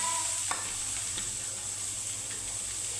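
Chopped onions frying and stirred in a pan, a steady sizzle with a few scraping stirs, close and alone.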